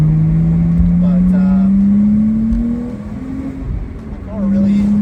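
A Porsche 987 Boxster Spyder engine revving steadily, its pitch climbing then dipping and rising again, loud and close, with a few brief voice-like sounds over it.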